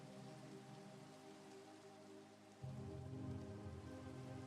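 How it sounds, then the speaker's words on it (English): Steady rain falls in the game Minecraft, a soft, constant hiss of drops on surfaces that is faint and low in level, with a slightly heavier texture joining partway through. "The rain noise isn't too loud,"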